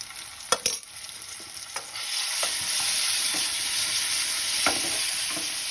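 Ginger garlic paste sizzles in an oily pan for a Bengali boal fish curry, opening with a few sharp spatula scrapes and knocks, then settling into a steady close frying hiss with occasional stirring clicks.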